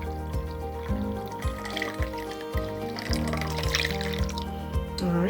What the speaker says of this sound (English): what I'm going to do now is pour the water into the bihydramonyl methyl sulfate